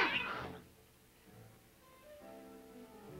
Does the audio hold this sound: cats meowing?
yes